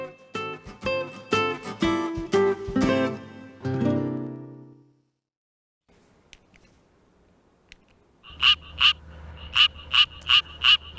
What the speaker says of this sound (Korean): 노랑배 청개구리입니다.